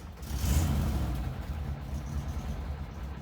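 A 1976 VW Westfalia bus with an aftermarket tach and under 75,000 miles cranks and catches, its engine swelling briefly, then settling into a steady, rough idle.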